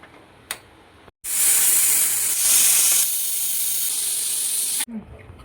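A pressure cooker on the stove, cooking bottle gourd halwa in milk, lets out a loud, sustained steam hiss for about four seconds, then cuts off abruptly.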